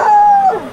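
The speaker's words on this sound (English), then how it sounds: "That's a pretty good hound dog noise." A hound dog's howl, one drawn-out wavering note that holds steady and then falls away, loud and close in a short burst.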